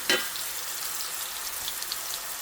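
Turkey smash burger patties searing on a hot griddle, giving a steady close sizzle with a brief clunk at the start and no talk.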